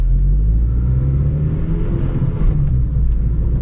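Honda Civic Si, ninth generation, pulling hard from first into second gear: a loud, steady low engine drone fills the whole stretch with a slight dip mid-way as the gear changes, no talking.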